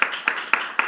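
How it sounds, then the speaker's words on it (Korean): A church congregation at a Wednesday prayer meeting gives a few sharp claps, four distinct hits spaced evenly through a short, moderately loud burst. "이번에는 자신을 위해서 격려하며 박수하겠습니다"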